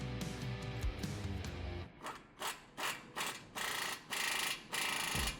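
A ratchet works on the upper control arm bolt of a 2015-2020 Ford F150 during a front leveling kit install, first a steady whirring spin, then a series of rhythmic clicking strokes close up.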